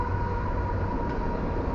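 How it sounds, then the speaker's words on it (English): A deep, continuous rumble of a passing CSX freight train rolls steadily throughout, with a low droning hum and no pauses. "Comes the CSX. Now we have a train going by."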